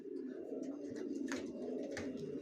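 Racing pigeons in moult coo softly in overlapping low, throaty murmurs that run continuously, fairly faint and close, with no talk.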